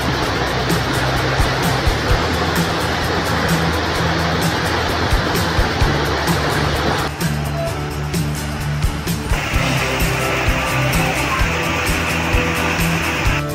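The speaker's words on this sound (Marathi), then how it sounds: "दाभोळचा हा धबधबा आपल्या पूर्ण क्षमतेनं कोसळतोय" A forest waterfall at Dabhol near the Pokharbav temple, dropping roughly 15 to 20 feet in full flow, makes a loud, continuous roar of rushing water throughout.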